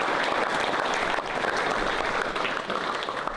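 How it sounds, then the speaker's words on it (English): Dense, sustained applause from a large audience at a team leadership announcement, steady and fairly loud throughout with crowd noise mixed in. "So give them a round of applause."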